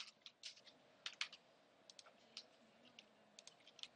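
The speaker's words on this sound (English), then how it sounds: "type the command like this. After that, press enter to" Quiet, close clicking of computer keyboard keys as a command is typed, irregular bursts of taps with short pauses between them, alone without speech.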